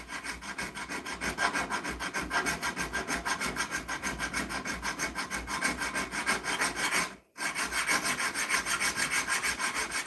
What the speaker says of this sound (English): we're finishing the blades, grinding them, filing them now, making them look pretty